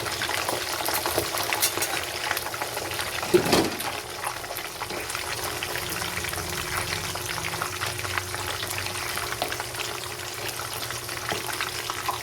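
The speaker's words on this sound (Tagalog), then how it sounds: "ipiprito muna natin ang isda" Tilapia fish frying in hot oil, a steady crackling sizzle throughout with a brief louder splash-like burst early on, close and moderately loud.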